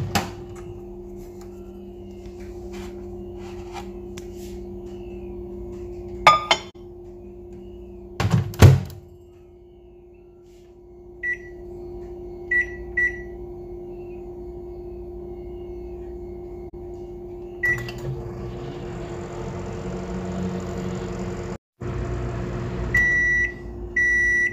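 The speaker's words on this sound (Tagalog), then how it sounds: "So, lagay na po natin sa microwave yan." Microwave oven heating a chocolate mug cake made with Nutella and KitKat: a steady low hum runs throughout, broken by loud thunks of the door and several short electronic beeps, with a fan-like whir rising near the end.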